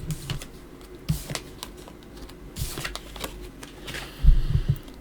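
Tarot cards are turned over on a table, giving soft, scattered flicks and taps up close against a low background hum, with a cluster of firmer taps near the end and no speech.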